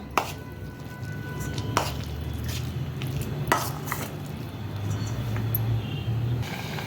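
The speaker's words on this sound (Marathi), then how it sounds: "असं चमच्याने मिक्स करून घ्या." A spoon stirs onion bhaji batter in a bowl, making a few sharp clinks and scrapes over a low steady background hum, with no voices.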